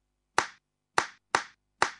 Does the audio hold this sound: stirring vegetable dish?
no